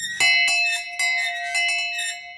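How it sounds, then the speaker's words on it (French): A bell rings with clear, sustained metallic tones, struck several times in quick succession, each strike overlapping the lingering ring of the last. "Une cloche."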